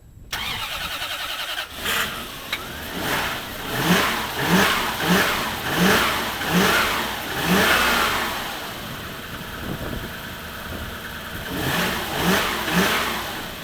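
A car engine cranks and starts, then revs up and down repeatedly in rising and falling surges, loud and close, before settling toward idle.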